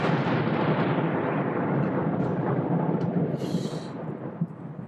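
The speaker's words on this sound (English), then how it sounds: "That was more thunder." Low, continuous thunder rumbling loudly and steadily throughout, a broad heavy roar with a slight swell near the end and no voices.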